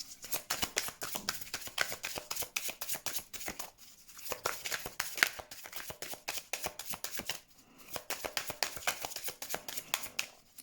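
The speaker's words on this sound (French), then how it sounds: "on va tirer quelques cartes de conseils de l'univers" Tarot cards shuffled by hand in rapid, continuous riffling bursts, close and fairly loud, with two brief pauses between rounds and no speech.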